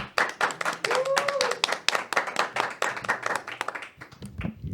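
A television studio audience gives loud applause, dense rapid clapping that builds and then thins toward the end, with a short vocal whoop partway through.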